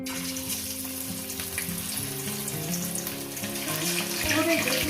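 Pieces of katla fish sizzling in hot oil in a pan, a steady dense crackle and hiss that swells slightly louder toward the end.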